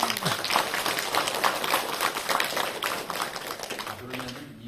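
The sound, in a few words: audience clapping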